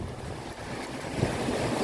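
Ocean waves washing up on a shore where crabs live, a continuous rough surge with wind buffeting the microphone and a slight swell near the middle, no talking.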